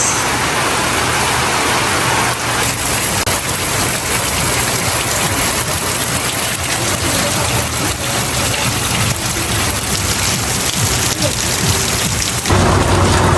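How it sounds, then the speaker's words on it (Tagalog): Heavy rain pours steadily throughout, a dense loud hiss that stays constant for the whole stretch with no voices. "inabot na po ng malakas na ulan. Ay stranded na kami, hindi po kami makaalis."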